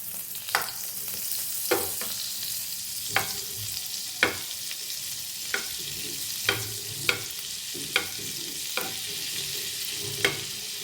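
Butter and oil sizzle in a pan with a steady hiss, while a spoon taps and scrapes against it at regular intervals.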